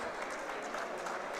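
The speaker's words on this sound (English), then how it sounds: "Let's clap for them, everyone, please." An audience at WordCamp Nepal, a WordPress community conference, applauding, a brief, dense wash of clapping heard on its own at moderate volume.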